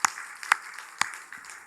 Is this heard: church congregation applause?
yes